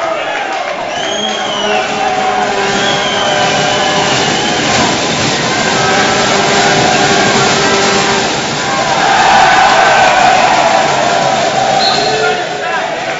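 Home crowd at a university basketball game between Bishop's Gaiters and Laval Rouge et Or loudly jeers a player at the free-throw line, a dense sustained roar of voices that swells near the end as an announcer talks over it.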